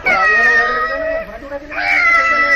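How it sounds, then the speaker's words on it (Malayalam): A cat meowing in a hotel in Delhi, a drawn-out cry that breaks briefly and then resumes, loud and close, with no talking over it. "അയ്യോ, ഒരു പൂച്ച."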